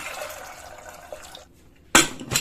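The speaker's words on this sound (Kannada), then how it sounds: "ಈಗ ನೀರು ಹಾಕೊಂಡ್ಬಿಡ್ತೀನಿ ನಾನು." Water flows into a pressure cooker pot of soaked chickpeas for kadalekalu usli, a short close pour followed by a pause and two sharp metallic clanks.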